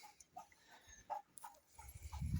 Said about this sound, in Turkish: Kayseri'nin baş köpeği.